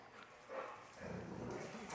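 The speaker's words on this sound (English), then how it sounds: "that little bit of growling, if you can hear it, from Wrigley, the boxer, is all playful gro" Boxer dogs growl playfully during a chase game, with low rumbling growls and scuffling movement that swell in bursts and grow louder toward the end.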